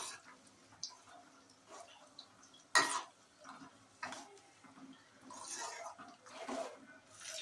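Curry leaves and tulsi leaves are stirred in a pot for homemade hair oil, giving sparse soft clinks and scrapes with one sharper knock against the vessel, close and fairly quiet, with no talking.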